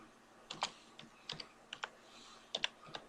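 Someone types on a computer keyboard while working in Adobe Photoshop, producing irregular clusters of crisp, close key clicks with short pauses between bursts.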